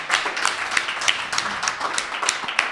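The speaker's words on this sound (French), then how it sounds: "On l'applaudit." A live studio audience at an anniversary talk-show taping claps along in a quick, fairly regular rhythm, moderately loud and close, with no one speaking over it.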